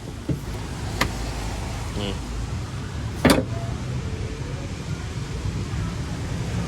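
Power-folding side mirrors on a black 2018 Honda HR-V 1.8 E Limited give a brief motor whir, with a couple of clicks and a louder mechanical knock partway through, over a steady low hum.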